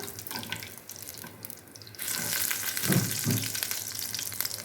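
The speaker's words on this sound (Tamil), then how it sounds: "நல்லா கோல்டன் ப்ரௌனாக வர வரைக்கும் சிம்மில் வச்சு நம்ம பொரிச்சு எடுத்துக்கலாம்" A chicken burger patty fries over low heat in a pan until golden brown, a close, steady crackling sizzle that grows louder and denser partway through, with a couple of soft knocks.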